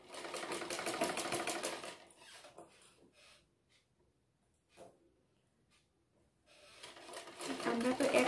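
Sewing machine stitching the curved lower hem of a bra-cut blouse, a fast rhythmic mechanical rattle running for about two seconds, then quiet handling clicks, then the stitching rattle starting again loud and close.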